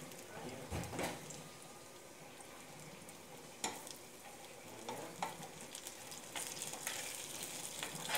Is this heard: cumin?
yes